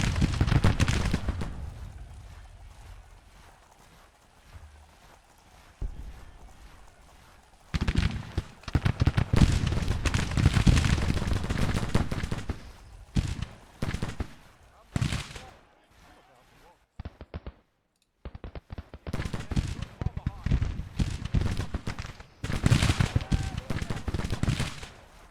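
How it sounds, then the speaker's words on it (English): Gunfire rattles through a Civil War battle in Grand Tactician: The Civil War, with dense bursts of rifle volleys and booming shots coming in waves and dropping to brief lulls, with voices heard at points. "Just keep shooting into them, boys."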